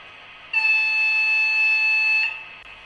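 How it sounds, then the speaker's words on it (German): A Brawa V100 model diesel locomotive sounds its signal horn in one steady, high-pitched blast lasting under two seconds, over a quiet background hum. "Funktion 9 – Signalhorn."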